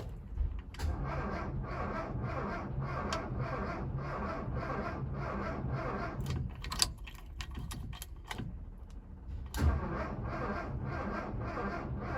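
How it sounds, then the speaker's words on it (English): A 1970 Volkswagen Single Cab Bay Window Bus engine cranks on the starter with a steady, rapid rhythmic churn, close and moderately loud, broken by a few clicks and pauses without catching. "I just gave the carburetors a little bit of a crank, so let's see."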